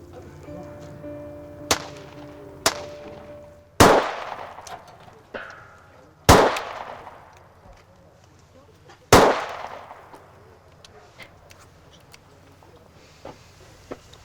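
Several sharp, loud gunshots crack at irregular intervals outdoors, each with a short echoing tail, separated by quieter background sounds.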